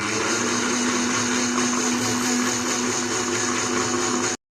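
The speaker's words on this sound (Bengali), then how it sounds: "আবারও আমি ব্লেন্ড করে নিব।" A blender whirring steadily as oil is blended into homemade mayonnaise, a loud continuous motor whine running several seconds before stopping abruptly.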